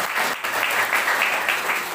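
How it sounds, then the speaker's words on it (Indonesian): Church congregation applauding, a dense, even wash of many hands clapping for a couple of seconds, filling the room with little speech audible. "Beri tepuk tangan terbaik buat Tuhan"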